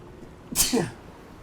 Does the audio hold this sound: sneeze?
yes